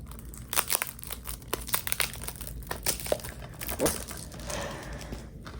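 Plastic wrapping is peeled off a DVD case in a series of close, crisp crinkles and brief tearing rustles, ending in softer crumpling.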